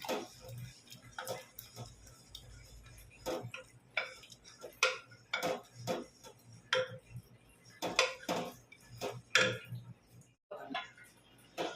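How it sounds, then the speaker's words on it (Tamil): A ladle mashes cooked lentils in a pot of sambar, making scattered soft clinks and scraping taps against the metal in an irregular rhythm, fairly quiet and close. "இப்போ பருப்பை நல்லா கரண்டியாலே கிண்டி மகிச்சாச்சு."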